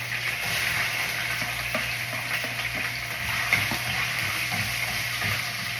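Food sautés in a frying pan in a home kitchen, a steady close sizzle with light stirring scrapes and a low hum underneath, no voices.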